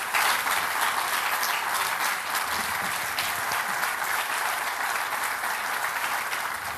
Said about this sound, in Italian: Le sue parole sono state accolte da un lungo applauso